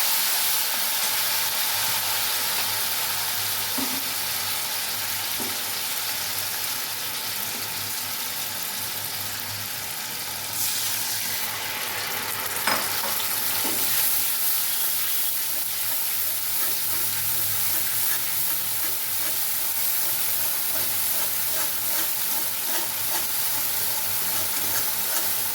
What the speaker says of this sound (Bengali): কড়াইতে তেজপাতা দিয়ে দিচ্ছি, আর যে বাদাম, আদা, কাঁচা লঙ্কা দেখিয়েছিলাম সেটা আমি পেস্ট করে রেখেছি, সেটা দিচ্ছি। এবার একটু কষিয়ে নেবো এটা।